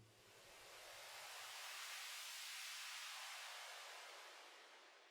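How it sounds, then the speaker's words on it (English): A lo-fi beat closes on a soft tape-noise transition. Broad, gentle hiss swells up and fades away over a few seconds, faint and airy. A little low thump shows at the start, then only noise remains. "Tape noise transitions are very important in sleepy lo-fi."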